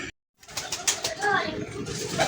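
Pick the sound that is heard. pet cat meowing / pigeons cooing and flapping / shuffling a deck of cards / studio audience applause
pigeons cooing and flapping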